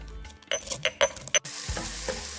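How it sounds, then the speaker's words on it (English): Onions browning in a pan for lamb curry give a short burst of metallic scrapes and clinks from stirring, followed by a steady, softer sizzle of frying. "the onions are browning up, just done a little bit too much, but it's okay"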